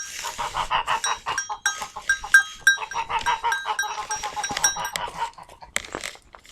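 Goats in a garden corral on a cold autumn day bleat repeatedly and close by, their cries overlapping in quick succession before tapering off.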